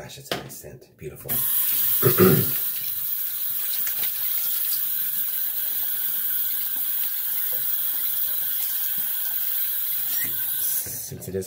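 Tap water runs into a sink to warm a shaving brush, a steady close rushing stream that starts after a short handling clatter and a brief squeak of the tap and continues evenly to the end.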